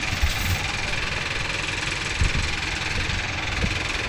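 A Mahindra Yuvo Tech Plus 585 4WD shuttle-gear tractor engine runs steadily with a low, knocking diesel rumble, loud and close, with faint occasional thumps and no speech.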